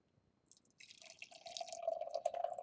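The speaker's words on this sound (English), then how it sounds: "Pour it into the glass." Smog City Sabre Toothed Squirrel hoppy amber ale pours steadily into a glass with a gurgling, splashing stream that grows louder and fuller as the glass fills, close by and with no talking.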